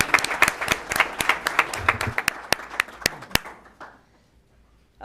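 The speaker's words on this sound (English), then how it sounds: "I'd like to have one more round of applause for those fantastic accomplishments" A meeting audience at a board of education session gives a round of applause, a dense patter of claps that thins out and fades to near silence after about four seconds.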